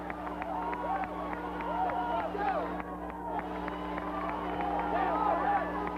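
A mixed reception from a partisan Iowa crowd as the Texas Longhorns come out of the dugout and run through their cheerleaders at the 1984 Freedom Bowl: a steady, distant stadium murmur with faint cheers under an announcer's voice and a low hum.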